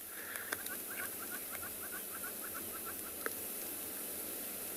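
A bird calls repeatedly on an afternoon safari in South Africa, a string of short, evenly spaced chirping notes at moderate distance over a steady outdoor background hum, with a couple of sharper clicks.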